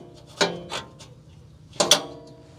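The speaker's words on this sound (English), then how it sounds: "To remove these 2, you can use a 15mm deep socket and a 12-inch extension." A ratchet turns a 15mm deep socket on a 12-inch extension to loosen the nuts on a passenger-side exhaust flange of a Chevy Astro or GMC Safari van: a few close, sharp metallic clicks in two brief bursts, with no one talking.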